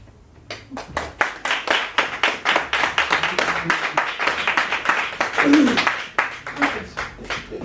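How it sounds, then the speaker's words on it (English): Scattered audience clapping at a talk on Black health, education and economics, with distinct individual claps that rise and fall in rough bursts and build into fuller applause midway. "Give a round of applause"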